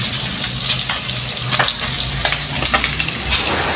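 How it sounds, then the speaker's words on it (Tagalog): Steady, close sizzling of marinated milkfish frying in hot oil, a dense crackling hiss that continues throughout with no talking. "Tapos nagpiprito akong yung minarinate kong bangus."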